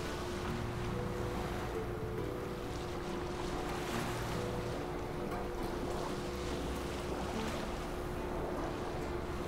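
Wooden boat crossing a foggy lake in The Witcher 3: Wild Hunt, with steady water wash, lapping waves and wind noise continuing throughout, with no talk.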